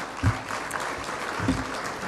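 An audience applauds at the official opening of the IDCEE 2014 tech conference in Ukraine. The short burst of clapping fills the hall without any talking.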